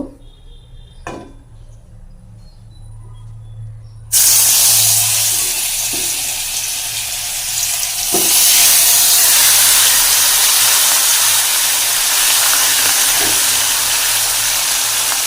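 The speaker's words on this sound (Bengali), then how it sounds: "সাদা তেল দিয়ে আর কি ওদের মাছগুলো ভাজি। এদিকে তেল গরমও হয়ে গেছে, এখন মাছ দিয়ে দিব।" Fish drops into hot white cooking oil after a quiet moment, setting off a sudden loud, steady sizzle and hiss that stays strong and close without a break.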